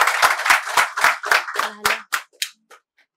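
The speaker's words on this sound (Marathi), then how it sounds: "त्यांच्यासाठी जोरदार टाळ्या होते" Audience applause at a Ganpati home-decoration competition prize-giving ceremony: a burst of scattered clapping that starts strong and thins into a few last claps, alone, with no speech.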